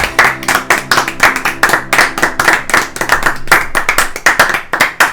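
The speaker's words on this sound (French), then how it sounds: "on applaudit" A small group of friends applauds at the end of a long multiplayer Commander card game, with quick, loud, close hand claps in a dense, lively burst.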